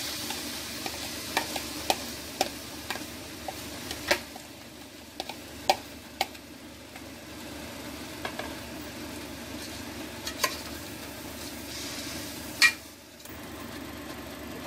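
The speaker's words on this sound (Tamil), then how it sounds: "நல்லா கிளறி விட்டுக்கலாம்." Chickpea pulao with rice is stirred in a pan, with a low, steady sizzle under repeated sharp ticks and scrapes of a spoon against the pan at an irregular rhythm, close and fairly quiet, with no voices.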